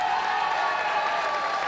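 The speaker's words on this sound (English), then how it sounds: "Give her a big round of applause" Brief steady applause from an audience at a live radio broadcast, a dense even wash of clapping with no voices over it.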